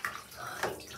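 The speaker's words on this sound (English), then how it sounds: "This is sucking up all the water." Water gurgles and is drawn up in a small toy doll's bath, a brief soft sloshing and sucking sound heard close and alone.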